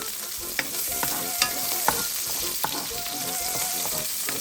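Three cloves of chopped garlic frying in about two tablespoons of oil, a steady close sizzle with small clicks and scrapes as it is stirred in the pan, with no voices.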